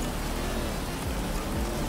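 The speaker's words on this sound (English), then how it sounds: "it's raining" Rain falls steadily in GTA V, a soft continuous hiss with a faint low rumble underneath and no voices.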